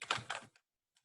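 Two quick bursts of clicks on a computer keyboard sound close, followed by near silence and a few faint taps at the end.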